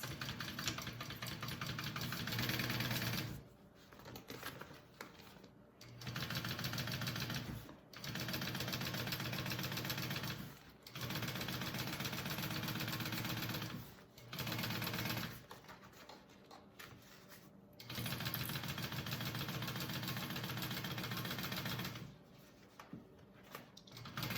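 A sewing machine stitches a bag lining seam at a 3/8 inch allowance in close, steady bursts of rapid mechanical whirring. About six runs are separated by short pauses, with no talking.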